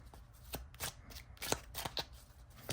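A deck of glossy, gilded gold-metallic oracle cards is shuffled close up in quiet, crisp bursts of riffling and snapping at a loose, uneven rhythm.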